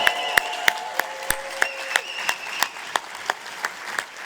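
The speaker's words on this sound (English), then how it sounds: "Let's give a big round of applause for our corporate team as well." Crowd applauding a corporate team at a company event, sustained clapping from many people with evenly spaced loud rhythmic claps standing out and a few cheering voices in the background.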